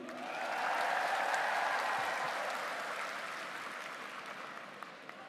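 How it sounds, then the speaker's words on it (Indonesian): A large audience at a presidential event in East Java claps steadily for several seconds, a dense wash of applause that swells early and slowly fades. "untuk Ibu Khofifah Indar Parawangsa, tepuk tangan lagi."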